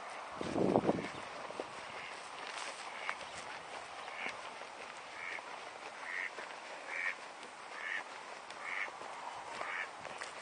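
Duck quacking on a lake bank at a carp fishing water park, a series of short repeated quacks at a moderate distance over outdoor background noise, with a louder burst of movement near the start.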